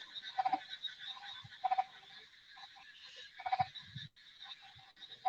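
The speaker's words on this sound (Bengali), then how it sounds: "ছোট ছোট করে ব্যাং ডাকতেছে" Small frogs croak near an open field, repeated quick bursts of rapid clicking calls against a faint trilling chorus, fairly soft and alone with no talk.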